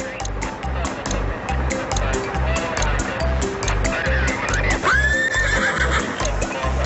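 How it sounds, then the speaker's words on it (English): A horse whinnies loudly over the steady clip-clop of galloping hooves on a beach, with other noise underneath. "and catching horses"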